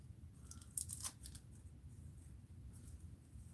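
Tape pulling loose from a ribbon-trimmed art journal page, a few sharp ripping bursts in the first second and a half, then a quieter steady rustle beneath a low background hum, close up with no talking.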